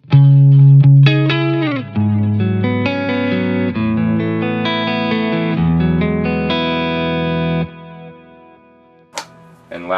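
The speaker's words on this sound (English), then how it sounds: "Switching in the time factor." Electric guitar through a Retrosonic compressor and Eventide TimeFactor delay pedal, a loud phrase of picked notes and chords whose repeats trail on after the playing stops, then a couple of faint knocks.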